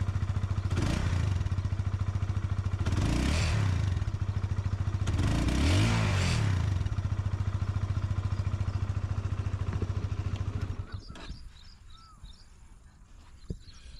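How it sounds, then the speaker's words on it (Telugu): A ten-year-old Honda CBR 150R motorcycle revs loudly through its exhaust in three rising bursts over a steady idle, then the engine note drops away and fades. "ఇప్పుడు రేవ్ చేస్తున్నా చూడు"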